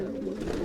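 Punjabi pigeons in a loft coo in a brief, low, throaty burble, close and clear, with no talking.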